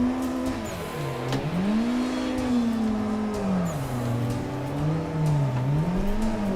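A turbocharged drift car engine in Assetto Corsa revs up and down in smooth rising and falling waves, with turbo whistle and faint tire noise, steady and moderately loud throughout, no talk.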